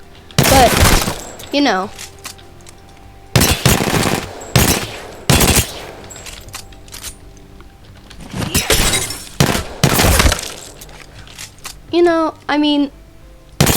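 Guns are hip-fired in the video game Apex Legends: loud, sharp bursts of rapid automatic fire in separate volleys, with someone talking over and between the shots.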